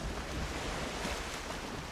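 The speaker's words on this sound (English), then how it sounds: "Oh god, the waves are getting big" Big ocean waves and wind in the Viking survival game Valheim, heard from a boat at sea: a loud, steady wash of surf and gusting wind with no break.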